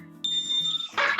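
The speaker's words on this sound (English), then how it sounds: "my smoke alarm is gonna go off" A smoke alarm, set off by cooking, sounds a piercing high electronic tone steadily, then gives way to a brief burst of harsher, louder noise near the end.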